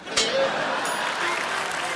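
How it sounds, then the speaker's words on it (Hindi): Studio audience applause on a Hindi comedy talk show, a steady clatter of clapping holding for about two seconds after a brief burst, with a faint voice underneath. "ठोको ताली।"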